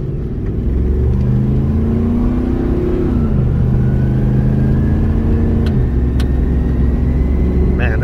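Lifted 1998 Ford F-150 regular cab short bed 4x4 truck stuck in low range, its engine droning loudly with steady low rumble and gear-shift pitch drops while driving, heard from inside the cab.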